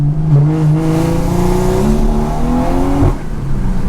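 A BMW 340i pulls hard on a wet road, its engine note climbing steadily through the revs before a sudden drop near the end, then settling again. The sound is loud and close, with no talk.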